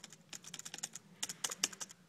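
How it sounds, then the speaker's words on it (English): Rapid, uneven keystrokes tapped on a small keyboard for a Handspring Visor handheld, clicking close and alone, with a few sharper presses toward the end. "and you can start typing"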